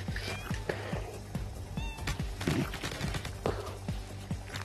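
A cat meows a few times in the video game Digi Gods, short high calls mixed with sharp game impacts and a speaking voice.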